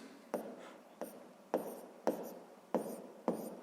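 Pen strokes on paper while working a sixth-grade math exercise: six distinct scratchy writing bursts at a steady pace, each starting sharply and trailing off, close and quiet with no talking.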